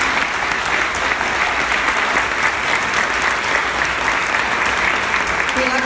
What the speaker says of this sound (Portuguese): Queria uma salva de palmas para os meninos.